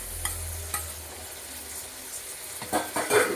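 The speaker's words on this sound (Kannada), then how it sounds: "ನಾನು ಈ ಟೈಮಲ್ಲಿ ಟೊಮೆಟೊನ ಆ್ಯಡ್ ಮಾಡ್ತಿದ್ದೀನಿ" Tomato goes into a sizzling pan for radish curry, with a faint steady fry hiss, soft stirring scrapes, and a few light clinks of a utensil against the pan near the end.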